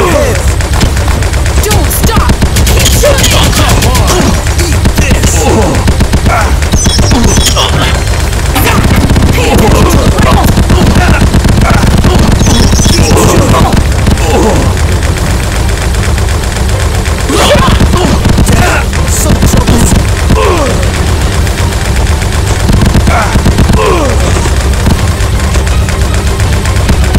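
Relentless arcade gunfire from Elevator Action Invasion: dense rapid shots and booms pound continuously at high volume for the whole stretch, with occasional voices mixed in under the barrage.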